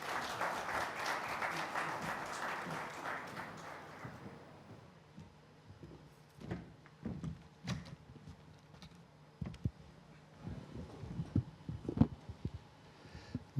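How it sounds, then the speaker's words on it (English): An audience at a talk event applauds in a brief, fairly faint burst of clapping that dies away after a few seconds, leaving quiet room tone with scattered thumps and handling noises. "A huge round of applause"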